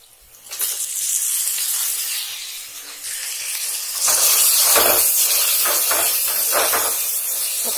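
Tomatoes added to ginger-garlic paste sizzle and fry loudly in hot oil for mushroom masala, a steady hiss that surges louder midway with bursts of stirring.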